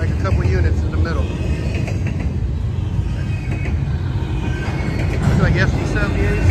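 A Union Pacific freight train with distributed power units mid-train rolls through Chillicothe, Illinois, as a steady loud rumble and wheel noise throughout, with someone talking over it.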